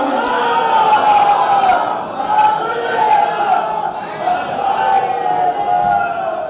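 A crowd at a Shia religious gathering for the Mawlid-e-Kaaba celebration raises a loud, sustained collective chant of salawat, voices swelling in repeated waves with a brief dip midway.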